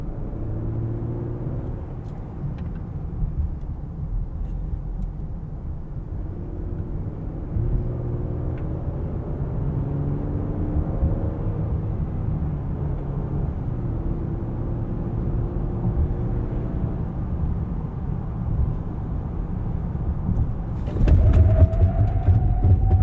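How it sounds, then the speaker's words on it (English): 2020 Lincoln Aviator Reserve braking from 60 mph, steady road and engine rumble with tire noise easing through the stop, then a brief rising electronic warning tone near the end. "I'm going to put the car in normal now for a 60 to 0 braking test."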